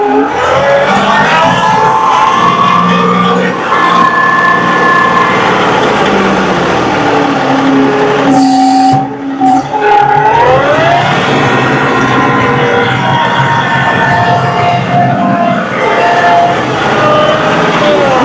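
A John Deere 2038R compact tractor's engine runs steadily at low RPM while plowing snow, a loud continuous drone with a shifting tonal pitch that briefly dips around the middle.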